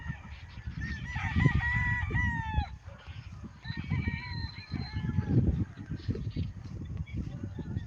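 Chickens cluck and a rooster crows amid honking geese, a busy farmyard chorus with overlapping calls at moderate distance.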